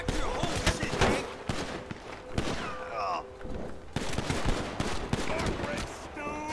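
Rapid bursts of gunfire crackle and pop in a GTA V firefight, loud and close with irregular volleys, while voices shout in between the shots.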